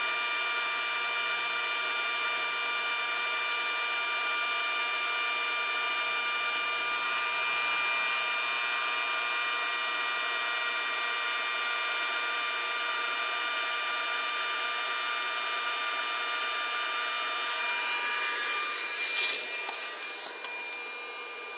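Heat gun blowing hot air onto a part of a Ford Explorer 4.0 V6 SOHC engine, a steady loud whining drone that holds constant throughout with no talk.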